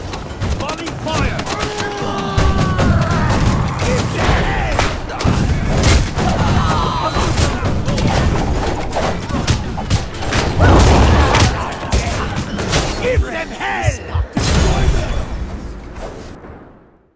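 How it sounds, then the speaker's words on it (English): A volley of gunfire during a siege battle in the Knightfall video game, with repeated loud shots and booms crackling over a continuous battle din. "Take aim! Fire! Take aim!"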